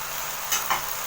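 Spices are stirred into a meat and onion stew in a pot, giving a brief steady sizzle with two quick scraping strokes of a spoon close by.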